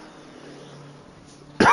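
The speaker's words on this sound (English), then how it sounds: "I'm doing my utmost to not cough on the microphone" A racing commentator on a GT3 sim-race broadcast at the Nürburgring Nordschleife lets out a single sharp cough right into the microphone, loud and close after a quiet moment.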